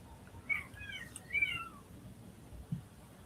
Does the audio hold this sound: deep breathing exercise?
no